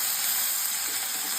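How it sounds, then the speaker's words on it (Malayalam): Ginger and green chili paste sizzle as they are sautéed in a pan, a bright steady frying hiss for a short moment with no talking. "അടുത്തായിട്ട് നമ്മൾ ഇഞ്ചിയും പച്ചമുളകും പേസ്റ്റ് ഇട്ടു. അതും നന്നായിട്ടൊന്ന് വഴറ്റി കൊടുക്കുക."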